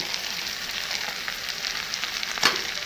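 Pieces of fried lotka fish sizzle steadily in a pan with boiled potatoes, a constant hissing fry with a brief sharper crackle near the end.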